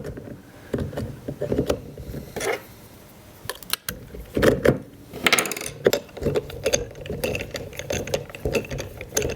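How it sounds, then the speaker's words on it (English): Direct drive motor wheel being fitted back on, with clicking, ratcheting mechanical clatter of parts in irregular bursts, close and fairly loud, with no talking. "Put the wheel back on."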